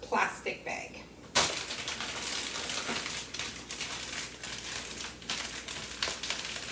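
A plastic bag crinkles and rustles up close as cream cheese frosting for cinnamon rolls is scooped into it, in irregular bursts of crackling with some faint background voice.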